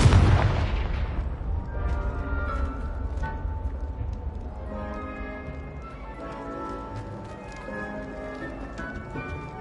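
Spell blasts and booming impacts in the video game Hogwarts Legacy, a loud burst at the start followed by repeated rumbling hits under game sounds.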